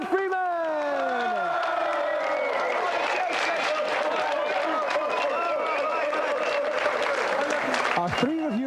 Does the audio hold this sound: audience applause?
yes